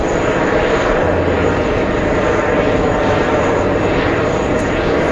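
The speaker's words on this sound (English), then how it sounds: "That's the plane." An airplane passes at JFK airport, seen from the TWA Hotel: a loud, steady engine roar that stays close and even throughout, with no talk over it.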